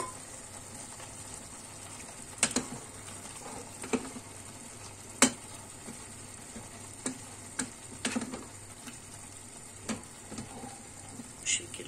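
Quiet, steady sizzling of tomatoes and garlic frying in a pan, with occasional sharp clicks and taps scattered throughout.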